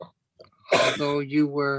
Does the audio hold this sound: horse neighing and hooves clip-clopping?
no